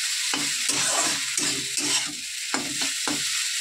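Maggi noodles crackle and sizzle in a hot pan as a spoon scrapes through them in quick uneven pushes, the frying hiss steady underneath, heard close and alone.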